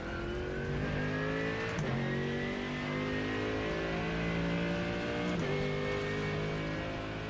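BMW GT3 race car engine from the iRacing simulator, a steady loud drone with layered harmonics that shifts pitch through gear changes, two noticeable shifts, continuous with no talk.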